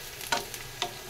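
Onion, coriander, chili and ginger frying in a pan for samosa filling, with a steady low sizzle broken by two brief louder scraping stirs.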